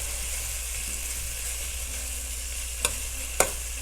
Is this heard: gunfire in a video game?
no